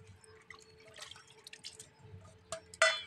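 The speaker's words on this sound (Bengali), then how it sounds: "মাছের ডিমগুলো এখন জলে ধুয়ে নেবো।" Fish roe is gently washed in a bowl of water, with soft intermittent splashes and drips close by, quiet overall, ending in a slightly louder slosh.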